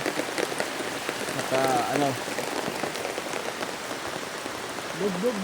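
Heavy rain patters steadily on banana leaves and surfaces nearby, with a couple of brief muffled voices breaking in.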